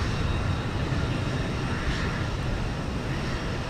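Jet airliner taking off from runway 15 left at Houston Intercontinental, a steady, loud broadband engine roar that holds constant throughout with no voices.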